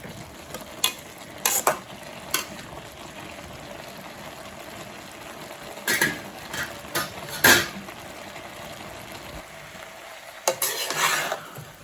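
A pan of cabbage poriyal simmers down its water while being stirred, with soft, steady bubbling and scattered sharp clinks and scrapes of a spoon against the pan. No one speaks.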